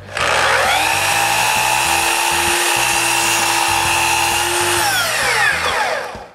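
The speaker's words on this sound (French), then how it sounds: "Ensuite, on coupe une autre planche." A power saw cuts through a wooden board for an exterior wall, the motor spinning up, holding a loud steady whine through the cut for several seconds, then winding down.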